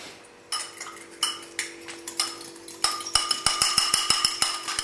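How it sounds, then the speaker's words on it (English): A fork clinks and scrapes against a bowl while beating a raw egg for strudel, starting as scattered taps and quickening into a steady run of close, bright metallic clicks near the end. "please stir the egg a little bit with a fork"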